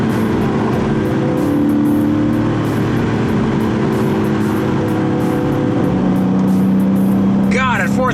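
Inside a Porsche 911, the engine drones steadily and climbs in pitch as it revs, with a brief voice surfacing near the end.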